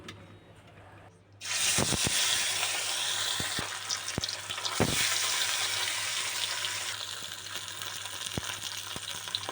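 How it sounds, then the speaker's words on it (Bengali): Small sarpunti fish dropped into very hot oil in a wok, a loud burst of sizzling that swells and holds as a steady close crackle, with a few sharp pops and clatters. "তো এখন আমি মাছগুলোকে এই গরম তেলটার মধ্যে দিয়ে দিব।"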